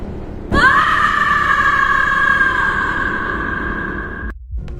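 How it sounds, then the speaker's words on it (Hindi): A woman's loud, piercing scream echoes down a hospital corridor. It bursts out suddenly, holds for about four seconds and then cuts off sharply. "अगले ही पल उसकी तेज चीख पूरे कॉरिडोर में गूंज उठी।"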